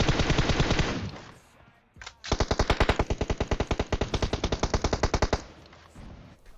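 Rapid automatic machine gun fire in a video game rattles off in dense bursts, a short pause around two seconds, then a long sustained string of evenly spaced shots that stops abruptly before a quieter tail.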